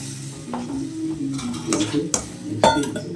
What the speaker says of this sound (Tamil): நல்லா மிக்ஸ் பண்ணிக்கிட்டே இருங்க